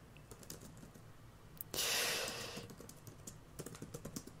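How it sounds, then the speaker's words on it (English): Rapid keystrokes on a computer keyboard, quiet and close, with a brief louder burst of noise in the middle before the clicking resumes. "Pay no attention to the typing sounds."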